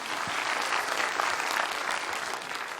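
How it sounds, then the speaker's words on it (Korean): An audience at a high school debate competition in Incheon applauds to welcome a guest onto the stage, a steady, moderately distant crowd clapping that holds evenly throughout. "큰 박수로 환영해 주시기 바랍니다"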